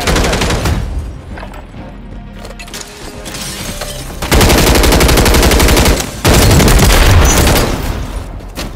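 Loud, dense gunfire in a Call of Duty Modern Warfare 3 Gunfight match: bursts of rapid automatic fire and heavy blasts, with a brief lull before sustained shooting resumes, close and overpowering, no talk.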